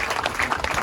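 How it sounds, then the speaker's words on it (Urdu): A church congregation claps for Jesus, dense and steady applause from a crowd filling a short burst. "یسوع کے لیے تالیاں بجائیں"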